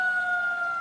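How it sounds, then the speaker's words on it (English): A steady, wailing fire truck siren tone holds in the distance, thin and continuous for a brief moment. "That's a fire truck."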